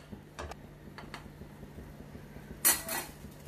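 A kadhai (wok) set down on a home stove while making sabudana khichdi: one short, fairly loud metallic clank and scrape near the end, after a few faint kitchen knocks, with no talking.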